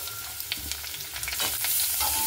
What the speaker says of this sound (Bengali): পেঁয়াজটাকে আমি লাল লাল করে ভেজে নেবো একসঙ্গে।